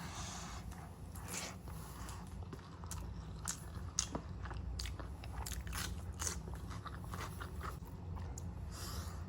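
Fried bele fish is chewed close to the mouth: repeated crunchy bites and wet mastication sounds in an irregular rhythm, quiet and with no talking.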